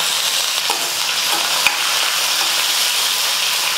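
Onion, green chillies and curry leaves sautéing in hot oil for a buttermilk curry, a loud continuous sizzle with one sharp tap partway through, close and without speech.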